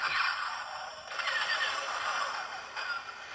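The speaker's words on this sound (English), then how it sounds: "So we got a little droid sound on one button there." A Star Wars Royal Naboo Starship toy's droid sound effect: warbling, chirpy robotic beeps and trills, fairly loud and continuous with no talking.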